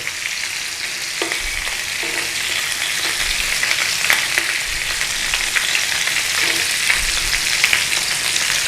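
Sausages, bacon and tomato frying together in a pan for a full English breakfast, a loud, dense, continuous sizzle with small pops and crackles and a few faint low knocks.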